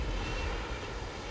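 An airplane in the Modern Warfare 2 video game gives a brief, steady, rumbling engine drone at moderate loudness with no other sounds.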